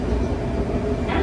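Riding aboard a Semboku Rapid Railway section express bound for Izumi-Chuo, in a newly wrapped car: a loud, constant rumble of wheels and car body fills the cabin, with a faint hiss rising near the end.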